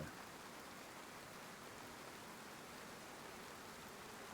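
Steady rain falling in the survival video game DayZ, a constant even hiss with no distinct drops, fairly quiet and unbroken throughout, with no voices.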